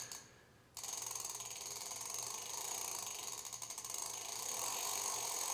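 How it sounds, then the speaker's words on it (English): A bicycle freewheel ratchet on a Fat Murf electric bike clicks rapidly and continuously as the crank is turned backwards to thread a pedal in, forming a steady close-up buzz of fine mechanical ticks with no talk. "start pedaling backwards until I feel it bite and the threads catch"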